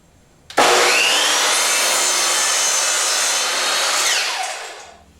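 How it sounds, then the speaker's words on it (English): A saw cutting a 45-degree angle through wooden baseboard trim: one continuous loud, close cut lasting about four seconds, starting abruptly and trailing off as the blade finishes and spins down. "So first we'll make a 45° cut on the main piece of baseboard trim."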